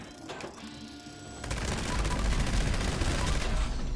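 Gauss minigun firing in Fallout 76, a dense, loud continuous stream of rapid shots that kicks in around the midpoint after a quieter mechanical spin-up with faint background sounds.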